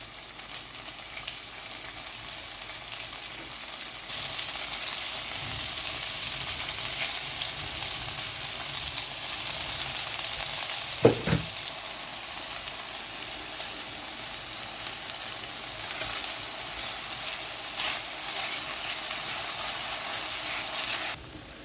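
Pork tenderloin sizzles steadily in a pan over a high-heat burner, giving a continuous loud frying hiss with one brief sharp clatter midway and no talking.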